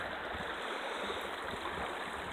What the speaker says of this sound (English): I just wanted to get one more shot of the sacred water here